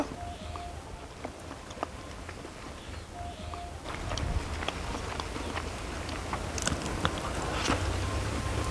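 Close, quiet chewing and biting while eating cashew tomato curry with chapati, a steady soft mashing and smacking texture that grows slightly louder midway, with no talking.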